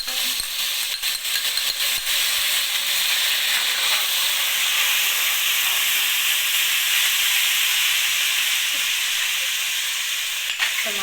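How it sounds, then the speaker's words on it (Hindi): Ginger garlic paste frying in a pan for a Punjabi dalia recipe, a steady bright sizzle and hiss that continues unbroken, close and fairly loud, with no talking. "लहसुन अदरक का पेस्ट शामिल करते हैं।"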